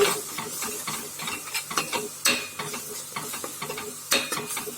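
Ground tomato paste being stirred into a frying onion base for channa masala, with repeated scraping strokes of a spoon against the pan over a soft, continuous sizzle, close and fairly loud.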